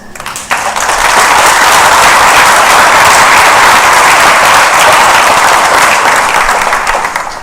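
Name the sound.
audience applause at a graduation ceremony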